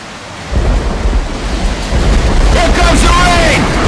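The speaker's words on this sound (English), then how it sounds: "Here comes the rain!" Thunder and rain in the video game Hard Rain: a deep rolling rumble over a heavy downpour that swells and stays loud throughout.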